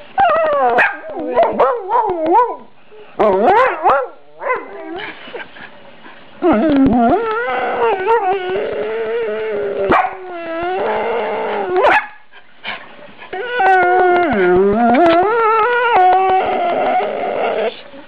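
A Dalmatian puppy whines and howls up close in long, wavering, sing-song cries broken by short pauses, with occasional yips, sounding loud and clear with no talking over it.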